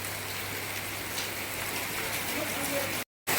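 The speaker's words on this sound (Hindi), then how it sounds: "इतनी ज़्यादा बारिश हो रही है गाइस," Dense, steady hiss of heavy rain pouring down, loud and continuous, with a brief dropout near the end.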